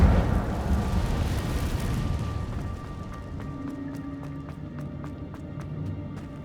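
Incendio fire spell in Hogwarts Legacy, a rushing roar of flame that fades into softer crackling with sparkling ticks trailing after.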